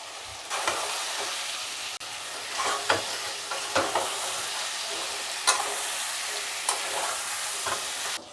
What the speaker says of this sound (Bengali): এখন আমি এর মধ্যে মুইঠাগুলো দিয়ে একটু সাঁতলে নেব, খুব হালকা হাতে